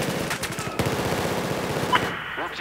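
Rapid automatic gunfire rattles in fast bursts during a Battlefield 4 match, loud and dense for about two seconds before cutting off, with a brief sharp effect near the end.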